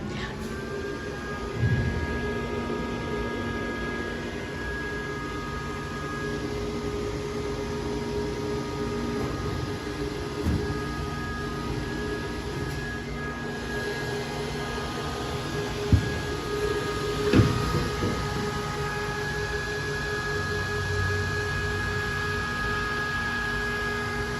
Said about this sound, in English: That is the sound of other mining machine working.